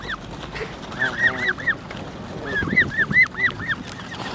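At a bird park on the Isle of Wight, geese honk from close by in loud, nasal bursts that come in two clusters, with a busy outdoor background behind them.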